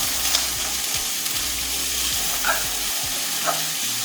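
Vegetables stir-frying in a lightly oiled preheated pan, a steady close sizzle with a few utensil taps and scrapes, no voices.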